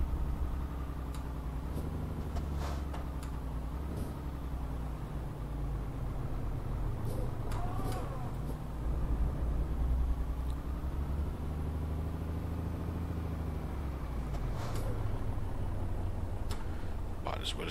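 A heavy truck engine in Euro Truck Simulator 2 drones steadily with a low, rumbling hum throughout, rising slightly in places as it pulls, with a voice speaking over it.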